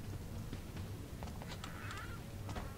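A bird in the stealth video game Thief gives a faint honking squawk amid low ambient game sound, with a few scattered clicks and short calls.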